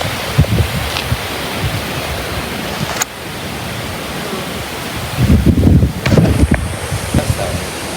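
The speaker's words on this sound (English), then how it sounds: "There's some strong winds coming in." Strong storm winds roar outdoors during a severe Ohio thunderstorm, a loud, steady broadband rush with heavy gusts buffeting the microphone near the end.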